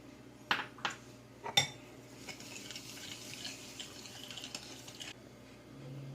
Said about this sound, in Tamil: இப்போ நான் சீனி கலந்துக்கிறேன்.